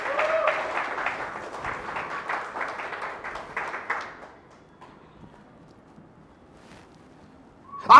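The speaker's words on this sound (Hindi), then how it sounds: "दिव्यस के लिए जोरदार ताली बजा के उनको धन्यवाद करता हूं।" An audience claps in a burst of applause lasting several seconds before it fades into near silence, followed by a brief sound at the very end.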